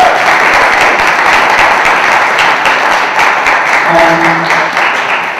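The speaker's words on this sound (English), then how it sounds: "Give her an applause, she will take the floor." Loud, continuous applause from an audience at a public debate on the inclusion of African youth, dense clapping throughout with a faint tonal sound briefly showing near the end.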